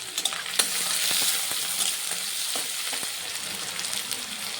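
Chopped onion sizzling in hot oil with cumin seeds, a steady loud frying hiss with occasional stirring scrapes and crackles throughout, close up.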